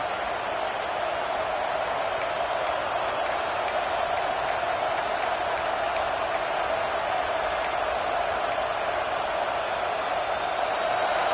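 Steady, loud roar of a home crowd in a football stadium during a third-down defensive stand, a continuous wash of massed voices with a few faint high clicks, no speech.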